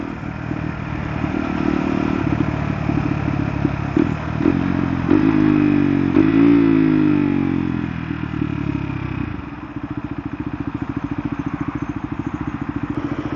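KTM Duke 390 motorcycle engine running steadily while riding, with a rising rev and pitch shifts around gear changes midway, then a lower, pulsing idle-like rumble toward the end; loud and close throughout, no talking.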